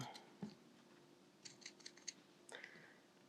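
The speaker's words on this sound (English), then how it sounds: "Grab your pinking shears and then just cut out" Pinking shears cut through fabric around a stitched soft toy piece in a quiet room, making several faint, crisp snips with short gaps between them.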